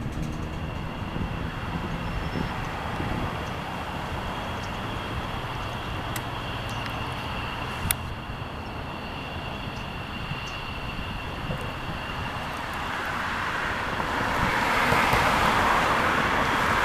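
F-15 fighter jets taxiing at Fresno Yosemite International airport, a steady broad engine rumble and roar heard at a distance that swells somewhat louder toward the end, with no talk.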